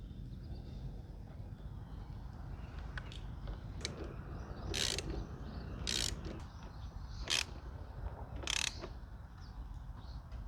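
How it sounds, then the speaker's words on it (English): A hand ratchet clicks in four short, crisp bursts, tightening the bolts that secure the airbox on a Honda Rebel 1100 motorcycle, with faint room noise between them. "we'll install the bolts that secure the airbox"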